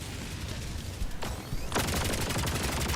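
A stationary emplacement weapon in Helldivers 2 fires continuously and loudly at close range, a dense rapid burst of shots that grows heavier in the second half of the stretch, with no talk over it.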